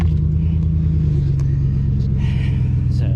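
A 2008 GMC Sierra pickup with a trailer plugged in, its engine rumbling at a steady low idle after starting, close and constant throughout.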